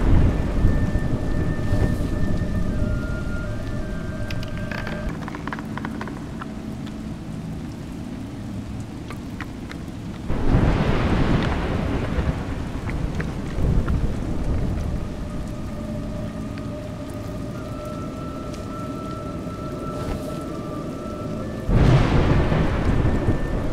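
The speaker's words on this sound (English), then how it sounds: "Raining." Rain and thunder in the video game A Juggler's Tale: steady rainfall hissing throughout, broken by two loud thunder cracks that roll and fade, with faint tonal game music in the background.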